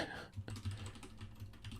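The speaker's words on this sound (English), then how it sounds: "Am I typing this right?" Rapid keystrokes on a computer keyboard during an LCS mock draft, a soft irregular clatter of taps with a steady low hum beneath, close and fairly quiet.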